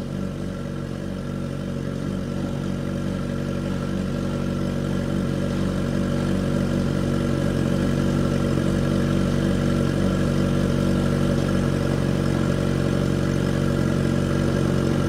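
Steady idle from a liter-class naked motorcycle engine, a loud, even low drone with a faint mechanical clatter that runs unbroken throughout, nearby and without speech.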